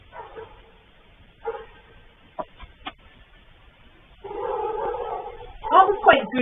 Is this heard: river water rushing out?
no